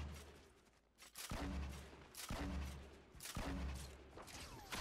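Gunfire in a Fortnite match, several loud close bursts of rapid shots spaced about a second apart against a low game background hum.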